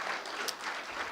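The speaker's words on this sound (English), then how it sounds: "Let's give them a big round of applause." An audience at an industry forum applauds panelists, a short burst of steady, fairly faint clapping from a seated crowd, with no one speaking over it.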